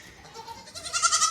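A goat bleats in a few wavering, nasal calls that swell louder toward the end, close by with no talk over it.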